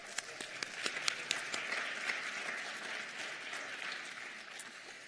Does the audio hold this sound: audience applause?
yes